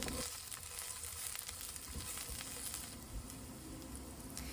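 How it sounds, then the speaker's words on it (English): Sliced onions stir-frying in cooking oil for a Korean kimchi fish cake side dish, a steady dense sizzle with faint stirring scrapes, close and continuous, no talking. "Stir-fry the third of onions that we sliced earlier."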